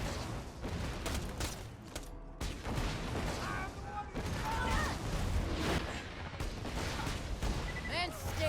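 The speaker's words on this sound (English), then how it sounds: "And you will see the little grenade droplets there causing explosions." Bursts of rapid gunfire from the KerBLASTER legendary assault rifle in Borderlands 2 and booming grenade explosions repeat throughout, with mechanical clicks and bright whooshing effects in between, a game-like mix of weapon sounds.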